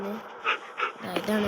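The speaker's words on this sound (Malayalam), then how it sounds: "ഇതാണ് നമ്മുടെ പട്ടികൾ" Dogs in a survival crafting video game panting in short, quick breathy bursts, fairly faint, with a voice speaking over them.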